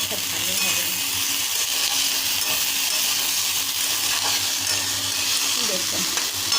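Banana flower curry sautéing in a pan, a continuous close sizzle and hiss with occasional stirring scrapes, steady throughout.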